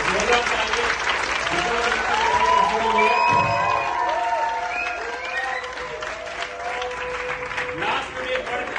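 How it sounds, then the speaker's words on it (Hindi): Audience applause and cheering at an Amway founder platinum event, dense clapping with voices and shouts mixed in, loud and sustained throughout, easing slightly toward the end. "और एक बार के लिए जोरदार तालियां"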